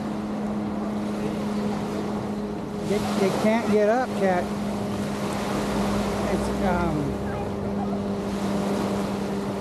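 Ocean surf rolls in at Waikiki Beach under wind noise and a steady low engine drone, while someone talks briefly partway through.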